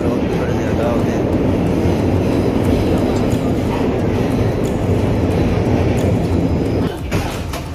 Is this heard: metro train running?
yes